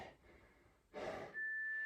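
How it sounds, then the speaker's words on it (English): A workout interval timer sounds a short electronic tone, then a breathy burst, then a steady high beep that holds on in a quiet room. "When the timer goes off, it's time to work."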